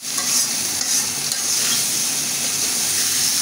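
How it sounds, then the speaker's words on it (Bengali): Elephant foot yam is stirred with salt and spices in hot oil for a hilsa fish head dish, giving a steady close sizzle with scraping stirring strokes and no talk. "আমি তেলের সাথে ভালো করে কষিয়ে নেব।"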